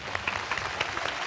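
Audience applause for dancers on a Telugu TV game show, a short burst of quick, dense clapping at moderate level with a faint murmur beneath.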